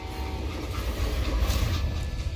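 A train rolls along in the Call of Juarez Gunslinger video game, a steady low rumble with faint mechanical rattle, continuous and fairly loud throughout with no speech.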